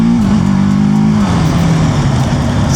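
TVS Apache RTR 310 motorcycle engine revving in third gear, a loud close tonal engine drone that holds steady and then slides lower as revs fall, with no other sounds over it.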